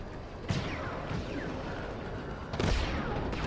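A grenade blast and sharp impacts burst out amid Star Wars Battlefront 2 combat, two loud broadband hits a couple of seconds apart over a steady roar of battle noise.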